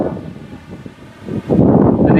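Strong typhoon wind roars outdoors, starting as a gusty, rustling rush and surging louder and steadier in the final second, buffeting close against the microphone with no talking.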